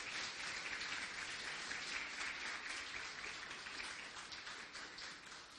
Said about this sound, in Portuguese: a sua salva de palmas.